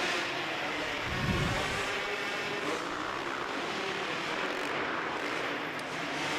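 Two-stroke dirt bike engines roar through an indoor heat race, a dense, continuous buzzing drone that swells and fades slightly as the bikes circle the track.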